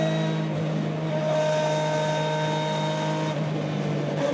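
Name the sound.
BTCC spec Ford Mondeo race car lapping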